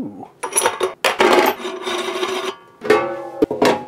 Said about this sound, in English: Nice cold meat going through the grinder.